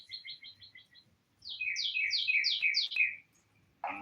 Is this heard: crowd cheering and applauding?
no